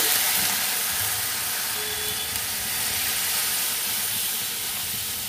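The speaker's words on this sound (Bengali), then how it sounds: "এবার এর মধ্যে জল দিয়ে দিচ্ছি।" Water poured into a hot pan of spiced jackfruit curry, bursting into a steady loud hiss and sizzle that holds evenly throughout, close and alone with no voices.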